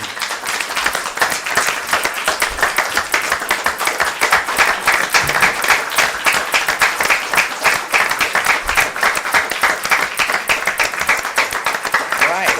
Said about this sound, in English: I'm gonna need y'all to give them a round of applause as they walk in